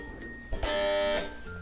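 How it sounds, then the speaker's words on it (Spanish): A doorbell or buzzer at a flat used during the March 8 feminist strike gives one steady electronic buzz of about half a second, fairly loud against a quiet room. "Vamos a tocar el timbre."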